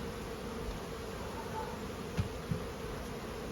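A steady, low buzz of many honey bees fills the air around a hive during a nucleus colony transfer into a full-sized hive, with a couple of soft knocks partway through.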